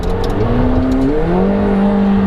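A McLaren 720S engine heard from inside the cabin, a loud sustained drone whose pitch rises and shifts as the revs climb, close and steady with no talk.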